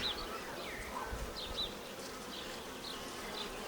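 Honey bees buzzing around an open hive frame in an Ukrainian-Alpine style hive, a continuous close drone with individual bees whining past, no talking.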